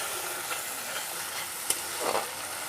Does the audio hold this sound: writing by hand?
no